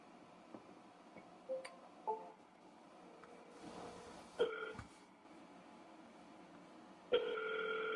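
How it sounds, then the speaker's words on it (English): Faint clicks and short tones from a phone placing an outgoing call, then a steady ringback tone begins near the end and continues. "I was waiting to make a dial just in case one of them got on a call"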